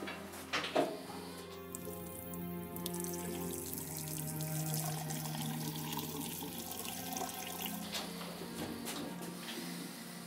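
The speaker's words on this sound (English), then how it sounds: "Pour the water in the basin." Water poured into a basin in a period sickroom scene, a steady liquid stream running for several seconds over a sustained tonal background.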